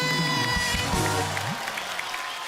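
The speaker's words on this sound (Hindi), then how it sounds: "परी के लिए एक बार जोरदार तालियां हो जाए" Studio audience applauding on a comedy talk show, a burst of clapping that fades while tonal music and voices sit over and under it.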